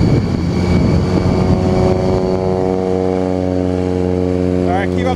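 Propeller airplane at an air show run by a museum, its steady engine drone strong and close throughout, then slowly shifting pitch near the end, with people talking faintly in the background.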